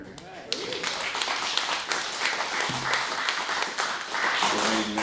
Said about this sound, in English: Y'all are applauding him